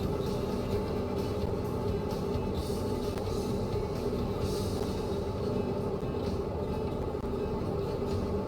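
A train running in Train Mechanic Sim 2017 gives off a continuous low rumble and engine drone, with steady rattling and a few faint higher clanks as it takes turns.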